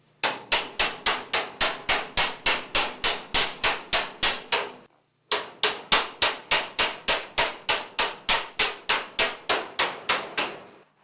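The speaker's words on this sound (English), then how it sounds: "I'll use a hammer to put it on." Hammer blows drive a sheet-metal air cleaner duct piece onto its fitting, a loud close series of rapid evenly spaced metallic strikes in two bursts with a brief pause between.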